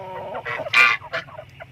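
Native chickens, hens kept for breeding, give a short run of clucks up close, with one louder squawk near the middle among quieter clucks.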